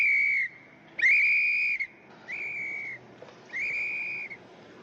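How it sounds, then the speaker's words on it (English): A police whistle in a 1940 comedy crime film blows four shrill, trilling blasts in a row, each about a second long with short gaps between, loud and close with no talk over it. "Isn't that a police whistle?"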